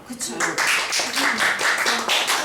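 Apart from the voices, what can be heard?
clapping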